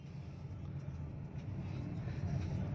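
Road traffic in Davao City rumbles as a steady, continuous wash of passing cars and engines, moderately loud and slightly rising toward the end.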